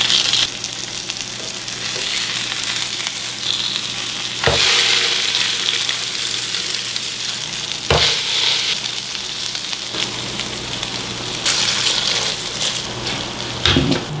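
Salmon burgers sizzle and fry steadily on an oiled grill, a close, continuous crackling hiss with a few sharper pops and spatters along the way and no talking.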